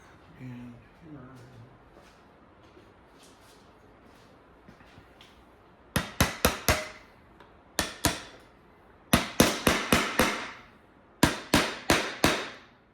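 Hammer blows striking a hockey puck, with a glued end set on it, in a bright series of sharp, loud knocks that arrive in clusters of two to five after a quieter stretch of background handling noise.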